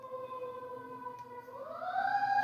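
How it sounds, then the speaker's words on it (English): A siren wails steadily at moderate distance, its pitch rising and growing louder toward the end as it approaches. "We're hearing the siren going by."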